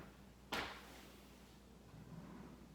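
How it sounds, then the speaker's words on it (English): A cat pulls open a bathroom vanity drawer, making one sharp, close knock and slide, then quiet room noise. "Harley, one of the cats, likes to open the drawers of the vanity"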